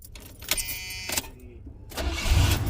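A bargain car bought at a donation auction cranks over and catches quickly, its V8 settling into a low rumbling idle that grows louder toward the end, close by.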